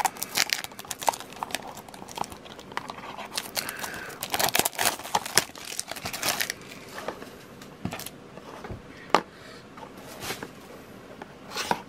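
Stiff plastic packaging of a Tomica Premium minicar being opened, with crinkling, crunching and sharp snapping clicks, fairly close and intermittent, loudest around the middle.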